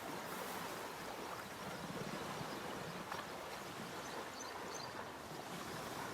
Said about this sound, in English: The water is making quite some noise here.